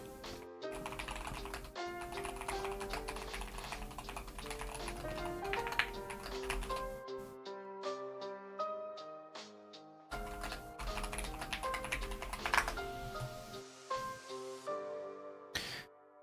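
Rapid clicking bursts on a computer keyboard while coding game logic in the Godot engine, steady close-up keystrokes broken by a couple of short silent pauses.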